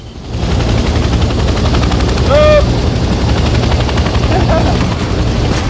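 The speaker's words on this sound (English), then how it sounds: "Let's get familiar with the three primary helicopter rotations: pitch, roll, and yaw." A helicopter in the Vietnam-era game Hell Let Loose flies with a loud, steady rotor drone and engine hum throughout, with a couple of brief chirping tones partway through.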